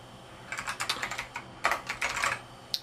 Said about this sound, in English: Trust me, I'm not this bad at typing normally.